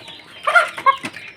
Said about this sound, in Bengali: আরও কিছু মুরগি আছে,